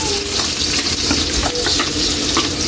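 Garlic stirred in hot cooking oil, a loud steady sizzle and crackle with scraping of the utensil throughout, close and continuous with no talking.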